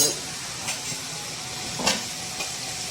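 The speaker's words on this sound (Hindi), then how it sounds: "ये सालन काफ़ी अच्छे से भुन रहा है" A cauliflower and meat curry fries in a pot, giving a continuous hiss and sizzle with a few brief stirring clatters, and a voice is faintly present.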